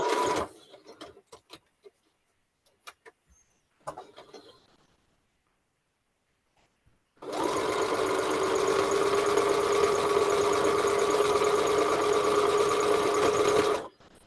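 A sewing machine stitching webbing runs in a loud, steady whirring drone for about seven seconds after a quieter stretch of scattered clicks and handling noises.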